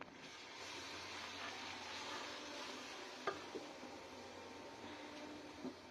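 Chili and turmeric powder stirred into biryani masala in a pan give a soft, steady sizzle, broken by a few faint scraping clicks of the spoon, with no talking.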